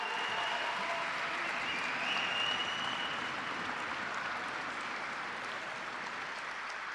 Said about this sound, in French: Merci d'applaudir très très fort Christophe Sapé et ses équipes